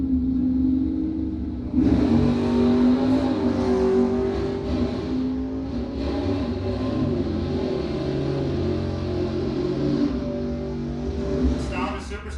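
Nostalgia muscle cars at a drag race rumble and rev together in a loud, sustained roar that starts abruptly and holds, with a track announcer speaking over it on a windy day.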